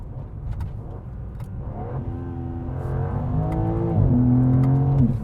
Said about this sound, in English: And let's take a listen to the inside, couple downshifts.